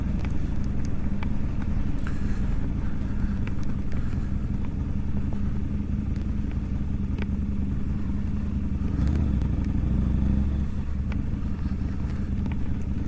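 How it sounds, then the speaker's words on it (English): Wind roars through a motorcycle helmet while riding a Harley-Davidson V-Rod in Alaska: a continuous loud, low rush with the bike's engine rumbling beneath it. "You might be able to hear it, I'm sure, through my helmet. The wind's whipping pretty good."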